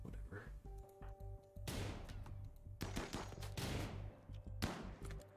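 Gunfire from the colony-building game RimWorld, with sharp bursts of shots and crashing impacts cracking out in uneven volleys over a low droning game soundtrack.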